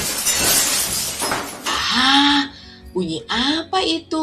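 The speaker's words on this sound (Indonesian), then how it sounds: "Ternyata itu adalah bunyi dari seekor burung yang menabrak kaca rumah mereka" A bird crashes into the window glass of a house while people sit in the living room: a loud, sharp shattering crash fills the opening, followed by a person speaking.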